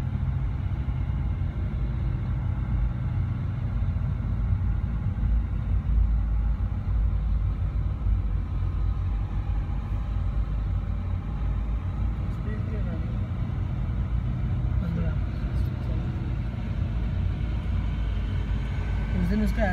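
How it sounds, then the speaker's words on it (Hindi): A car engine labours up the hill road of the Lonavla climb, producing a constant low rumble and drone that stays steady and fairly loud from start to finish. "मंदिर के बाद वो गेयर चेंज करेगा।"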